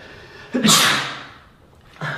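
A single loud, close sneeze with a sharp intake before it, followed by a short voiced sound.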